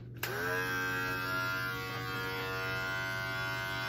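Electric hair clippers fitted with a 0 guard switch on with a click and run as a steady, close buzzing hum with bright harmonic overtones.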